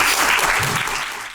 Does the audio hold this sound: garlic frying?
no